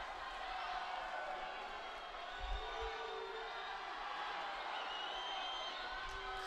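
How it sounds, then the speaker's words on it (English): Swimmers cheering on their teams from the deck during a swimming championship final, a steady distant crowd roar with no distinct peaks, continuous throughout under a faint background hiss. "Swimmers cheering on their teams"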